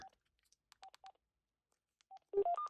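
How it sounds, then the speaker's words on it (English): Keypad tones from a cordless phone in a hotel room: a few short, separate beeps come first, then a quicker burst of several tones near the end, with no voice over them. "if a guest wants to go to voicemail, I press and hold 1"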